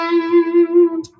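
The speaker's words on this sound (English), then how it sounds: "particularly if I have some crunch, a little bit of distortion," A single sustained electric guitar note with crunchy distortion and a wavering vibrato, ringing clearly for about a second before cutting off with a short pick scrape.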